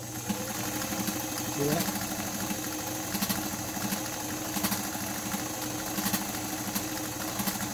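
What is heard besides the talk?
White 764 sewing machine sewing zigzag stitches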